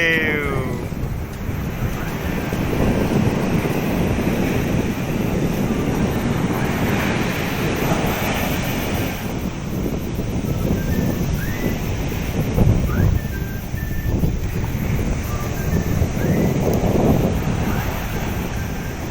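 Sea waves wash steadily onto the shore near Madhopur village, with continuous surf roar and gusty wind buffeting the microphone throughout, broadband and fairly loud with no speech.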